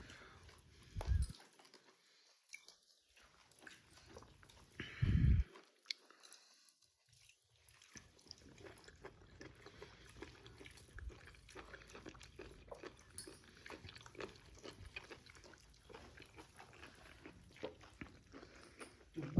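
People eat broiler chicken curry with ragi sangati at home, giving soft, intermittent close chewing and smacking sounds in a quiet room, with a couple of louder knocks and no talk.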